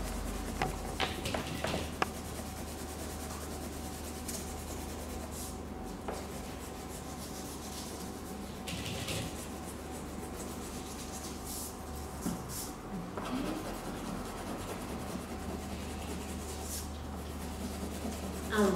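Orange crayon rubbed onto brown card for a St. Patrick's Day leprechaun hat craft, a steady scratchy back-and-forth scribbling that continues close up for the whole stretch.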